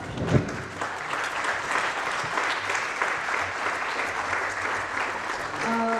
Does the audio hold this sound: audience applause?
yes